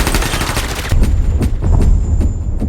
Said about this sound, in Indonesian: Begitu terdengar suara tembakan, anak buah Papi yang berjaga langsung menyerang.